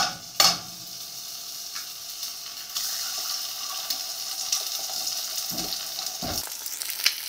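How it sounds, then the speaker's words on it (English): Soft, steady sizzling of an egg sandwich frying in a pan, broken by a few sharp clinks and knocks of utensils. "I need bigger frying pan."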